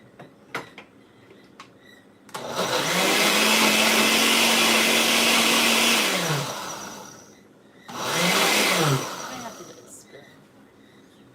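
A kitchen blender pureeing food runs in two loud bursts, a long steady whirring run and then a shorter one with a dip in pitch, with quieter clatter and pauses between.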